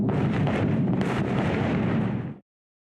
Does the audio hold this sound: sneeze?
no